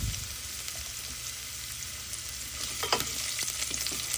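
Ginger frying in a pan with garlic being added, a steady close sizzle with soft stirring clicks toward the end.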